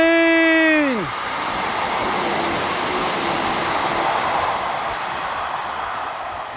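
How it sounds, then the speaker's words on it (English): A train rumbles past close by near the disused Luddendenfoot station, a broad steady roar that swells and lingers, with a horn-like tone fading out in the first second. "Train!"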